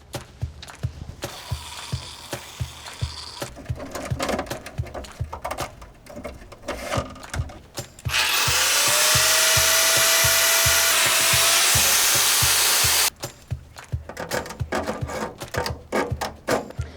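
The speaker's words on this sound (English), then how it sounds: "when we use the angle grinder, there's gonna be sparks" An angle grinder cuts metal gutter guard mesh in a continuous, loud, high-pitched whine lasting about five seconds, set between stretches of scraping, clattering handling noises from the job.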